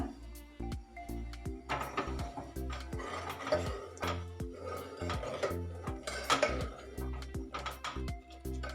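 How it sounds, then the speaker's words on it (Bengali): A spoon stirs a pot of milk to melt jaggery and rock sugar, making faint, close, irregular metallic clinks and scrapes against the pot over a low steady hum. "আমি এইটা দিয়ে দিয়ে নেড়ে নেড়ে গুড়টা আর মিশ্রিটা গালিয়ে ফেলছি"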